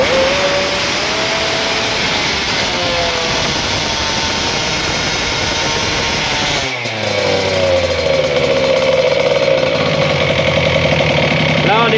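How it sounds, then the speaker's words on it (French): Motorcycle engine fitted with an internally modified PWK carburetor, running loudly up close with a steady idle hum, a throttle blip around the middle that dips then surges, and a continuing rougher running tone afterward; someone talks over it. "au ralenti, vous voyez, on revient bien. À coup d'accélérateur, ça part et ça revient bien."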